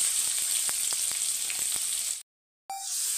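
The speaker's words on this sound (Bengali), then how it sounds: "পেঁয়াজটা হালকা গোলাপি করে ভেজে নিতে হবে।" Chopped onions fry in hot oil in a kadai, a close, steady sizzling hiss with a few light stirring ticks, cutting to brief silence before the sizzle resumes.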